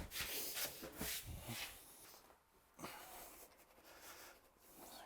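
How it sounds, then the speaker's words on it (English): A sponge is wiped across a bare concrete surface while a shower is prepared, producing soft, close rubbing strokes of varying length, quiet and without talk. "sponge, just wipe down the concrete surface."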